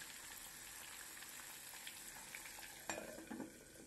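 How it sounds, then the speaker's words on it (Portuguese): Pork ribs frying in a cast iron pan, a steady close sizzle that holds throughout, with a louder burst of spattering and stirring near the end. "a fritura tem outra qualidade por conta da panela de ferro"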